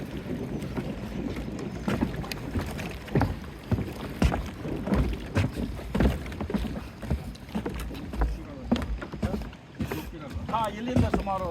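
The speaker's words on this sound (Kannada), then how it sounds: "ಸೊ ಇದು JLR ಕಡೆಯಿಂದ ಬೋಟ್." A JLR passenger boat crosses the sea off Karwar toward Kali Mata island, its steady motor churning and wind buffeting the microphone, with water slapping against the hull throughout.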